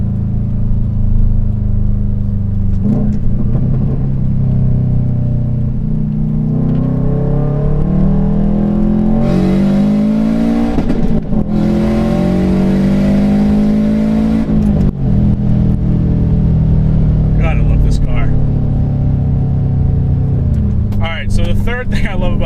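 A turbocharged Subaru STI engine pulls hard and rises in pitch as it accelerates, with a steady loud drone, a gear change midway, and faint talking near the end.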